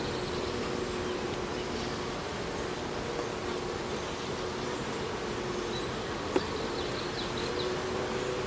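Steady dense buzzing of many honey bees around a hive during an inspection, constant and close, with a faint click partway through and no voices.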